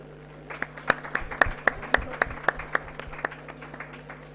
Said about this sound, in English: The audience, please clap for him.